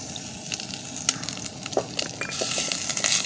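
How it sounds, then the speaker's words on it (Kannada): Curry leaves and grated coconut frying in a pan, a steady close sizzle broken by small pops and crackles that swell slightly toward the end. "ಅದೇ ರೀತಿ 2 ಸ್ವಲ್ಪ ಕರಿಬೇವಿನ ಸೊಪ್ಪು, ಇದನ್ನು ಕೂಡ ನಾವು ಚೆನ್ನಾಗಿ ಫ್ರೈ ಮಾಡುವ"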